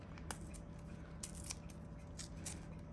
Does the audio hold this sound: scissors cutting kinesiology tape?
yes